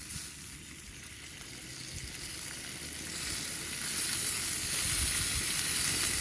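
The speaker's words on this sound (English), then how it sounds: "this bacon smells so good" Bacon frying in a pan at a campsite, a steady close sizzle with crackling fat that grows slightly louder over time, no talking.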